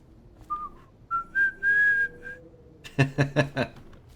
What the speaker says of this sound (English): Excellent whistling it is.